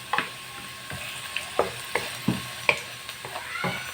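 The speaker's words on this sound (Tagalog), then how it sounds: "Tapos ilagay ko na yung piniritong tokwa." Fried tofu stirred in a pan with repeated scraping strokes of a utensil, a soft sizzle running beneath the rhythmic clatter, close by and moderately loud.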